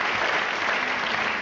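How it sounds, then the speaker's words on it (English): A studio audience breaks into steady, dense applause, loud and sustained throughout with no voices over it. "You can applaud now."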